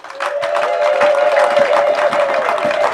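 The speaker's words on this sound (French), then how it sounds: "que nous applaudissions ces deux dames qui sont devant nous" Audience applauding two women at a donation ceremony for Goma disaster victims, steady dense clapping from a crowd, loud and close, over a sustained tone.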